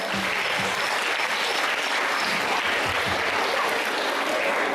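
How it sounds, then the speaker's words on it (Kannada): Loud, sustained applause from a school audience at a Kannada Rajyotsava celebration, continuous clapping filling the whole stretch without pause. "ಜೋರಾದ ಚಪ್ಪಾಳೆಯೊಂದಿಗೆ ಸ್ವಾಗತಿಸೋಣ."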